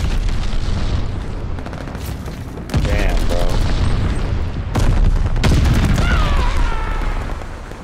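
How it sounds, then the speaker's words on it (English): Glide bomb explosions and gunfire in the first-person shooter Call of Duty: Vanguard during team deathmatch: two heavy booming blasts with bursts of rapid shots over a constant battle din, with faint game voices mixed in. "Enemy glide bomb."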